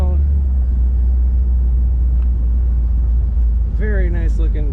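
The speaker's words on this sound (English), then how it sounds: "Today we're driving a very nice 1957 Chevrolet Bel Air Convertible." A 1957 Chevrolet Bel Air Convertible with an automatic transmission drives with the top down, a loud constant low engine and road rumble throughout, with a voice speaking briefly near the end.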